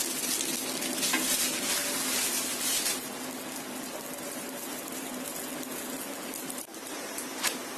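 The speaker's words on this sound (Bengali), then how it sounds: "আমি এখানে কিছু ফ্রোজেন পরোটা ছিল আমার ঘরে, আমি সেটা ভেজে নিচ্ছি।" Frozen parathas fry in ghee in a pan, giving a continuous crackling sizzle with a few sharper pops, heard close and fairly quiet with no talking.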